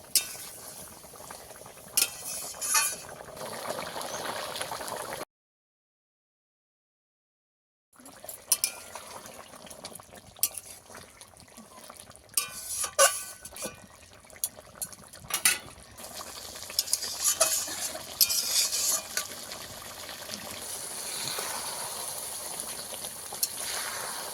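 Bom fish curry bubbles in its gravy while a spoon stirs and scrapes the pot, giving soft simmering and intermittent clinks, with a short silent gap partway through.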